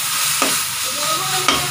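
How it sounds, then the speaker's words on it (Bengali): A spice paste of ginger, garlic, dried chilli and cumin being sautéed with onion and prawns, a steady close sizzle with two sharp scrapes of a stirring spoon against the pan. "এটা একদম সুন্দর করে কষাবো।"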